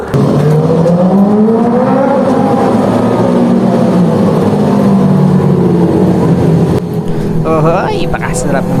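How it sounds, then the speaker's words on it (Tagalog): Loud, continuous engine roar with rising and falling revs from big bike motorcycles passing close by, dense and sustained throughout. "Gaganda ng mga tunog ng malalaking big bike na motor."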